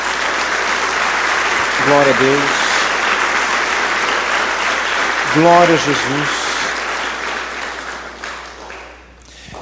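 Church congregation applauding in a dense, loud, continuous wash of clapping that tapers off near the end, while a speaker's voice calls out praises over it twice.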